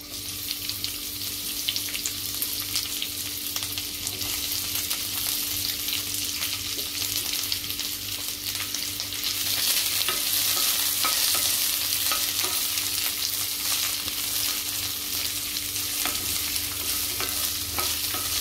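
Onion sautéing in a teaspoon of oil in a kadhai for matar paneer, a steady close sizzle with repeated scraping stirs and a faint hum, swelling louder midway, no voices.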